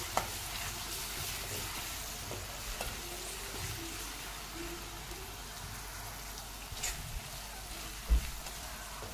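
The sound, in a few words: onion and crushed chilli thecha being sautéed for zunka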